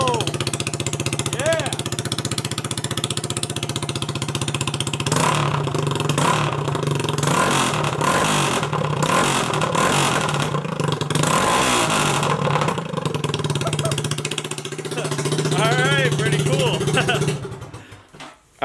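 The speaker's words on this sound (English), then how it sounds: "Sounds like a real motorcycle." A Honda Grom motorcycle with an aftermarket exhaust idles loudly and then revs repeatedly with a raspy, throaty roar, close by, with occasional voices before it cuts off.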